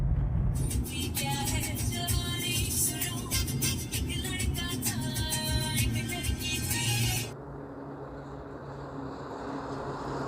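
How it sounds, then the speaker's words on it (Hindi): Road traffic idles in a long truck jam on a highway near Keonjhar. Low engine rumble runs throughout, and a loud broadband hiss or horn-like blare near by cuts off after about seven seconds. "देख रहे हो, सिर्फ ट्रक ही ट्रक है।"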